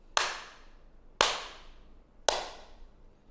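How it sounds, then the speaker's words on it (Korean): Three sharp, separate hand claps, each ringing briefly with room echo, are spaced about a second apart as they are played to a safety chatbot's sound detector. "첫 번째로 박수 소리"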